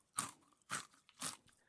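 Grapes being chewed close to the mic: three soft crunching bites spaced roughly half a second apart, wet and brief, with quiet gaps between them and no talking.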